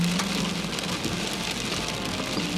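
Hail and rain pelting a storm-chasing truck during a thunderstorm, a dense continuous patter and rattle of hits on the vehicle's roof and body, loud and close with no talk.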